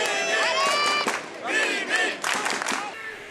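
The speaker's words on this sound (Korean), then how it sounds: "현지 관중들이 뜨거운 응원을 보냈지만" A local crowd at a judo final roars and shouts in loud, sustained waves of cheering, with several swelling bursts of yelling across the arena.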